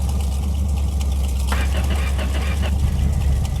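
A virtual car engine in the My Garage game, freshly dropped into the car, cranks and settles into a steady idle, a continuous close rumble with a brief burst of starting clatter partway through.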